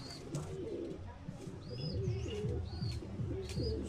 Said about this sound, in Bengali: এটা একটা নর কবুতর, দেখুন কি অবস্থা, ছটফটে।